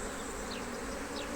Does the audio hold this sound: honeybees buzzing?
yes